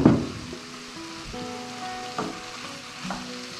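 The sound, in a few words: broth added to sizzling wheat and mushroom risotto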